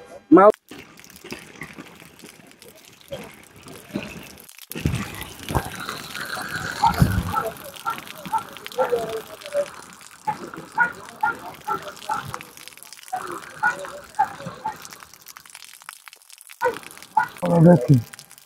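Water leaking from the Nilwande left canal runs near farm homes, a steady wash of flowing water heard beneath several people talking throughout.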